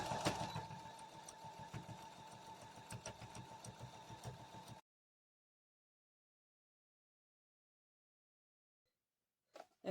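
Sewing machine stitching a quarter-inch seam along quilt binding, a steady mechanical hum with fine rhythmic chatter for nearly five seconds, followed by silence and a brief faint noise at the end.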